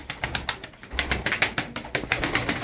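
Pigeons flutter and shuffle close by, with repeated soft bursts of wing flapping and faint cooing, no talking.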